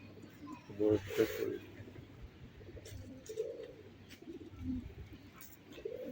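Pigeons coo softly in low, throaty calls amid background murmur and a few faint voices at a zoo in Chișinău, close by but not loud.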